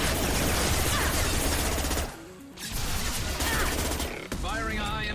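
Heavy, high-impact gunshots from the video game Mass Effect 2 pound in dense rapid fire, loud and close, with a brief lull in the middle before the barrage resumes under game dialogue.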